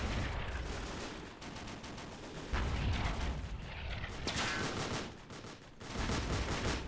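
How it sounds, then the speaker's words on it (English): Artillery fire in the Totaler Krieg 1939-45 mod of a World War II strategy game: a dense, continuous rumble of booms and gunfire, loud and sustained, swelling in bursts with no voices. "I believe we're taking artillery fire right now"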